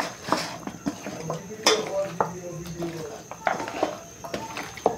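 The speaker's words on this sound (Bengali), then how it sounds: "এখন আমি সব একসাথে আমি কষায় নিতেছি।" Duck meat stirred in mustard oil in a pot makes a close, irregular clatter of a spoon scraping and knocking the pot over a soft sizzle, with a voice talking in between.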